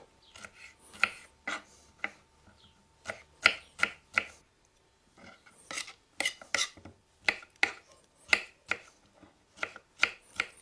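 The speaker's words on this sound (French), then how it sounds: "Et puis, vous coupez en petits cubes." A knife chops a nectarine into small cubes steadily on a cutting board, with sharp irregular taps close by and short pauses between runs of cuts.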